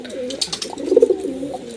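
A racing pigeon gives a short, soft throaty coo, close by, amid faint background rustle.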